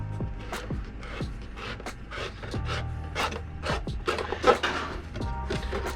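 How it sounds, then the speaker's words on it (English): A body reamer bores a hole through the middle of a 1/10 scale RC truck body, giving repeated close scraping, rasping strokes with a low background hum. "I use a body reamer in the middle to bore a nice big hole"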